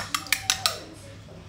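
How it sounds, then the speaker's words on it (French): A whisk beating eggs for a vegetable burger mixture strikes a bowl in four quick, evenly spaced metallic clinks, close and fairly loud, then the sound fades into quiet room noise. "fouetter un petit peu les œufs et les ajouter à mon mélange"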